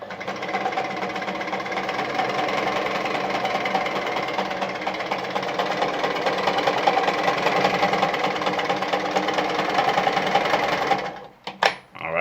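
An Adlerina 240A sewing machine runs a zigzag stitch with a steady rapid mechanical whir and fine rhythmic needle ticking for about eleven seconds, close up, before stopping with a few clunks.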